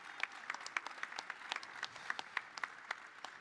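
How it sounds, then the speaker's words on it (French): Applause from the audience at a political congress on Europe, a sparse, quiet patter of distinct individual claps in an irregular rhythm, fairly distant, without voices. "que je vous demande d'applaudir très chaleureusement"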